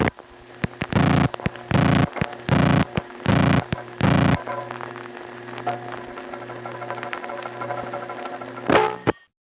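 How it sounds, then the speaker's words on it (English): Older crossbar telephone switching equipment responds to a home phone dialing a seven-digit number: a quick series of tone bursts, followed by faint metallic relay clicks and chatter over a steady hum and line noise, ending with a final clack. "I'm referring to the metallic sounds that you will hear between his digits and afterward."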